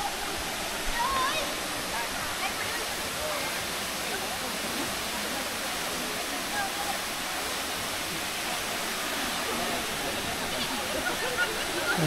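Katibawasan Falls, a tall waterfall in Camiguin, roars as a dense, steady rush of falling water, close and constant throughout.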